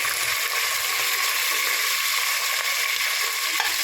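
Curry leaves and green chillies fry in hot oil for chicken biryani, a loud, close, continuous crackling sizzle with no talk over it.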